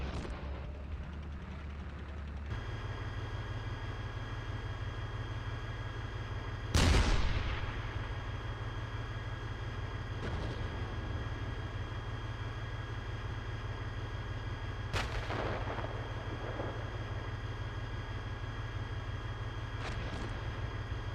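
Gunfire and artillery rounds in a military video game crack out at scattered intervals, a few heavy booms standing out over a steady engine-like drone, moderately loud and mostly without talk.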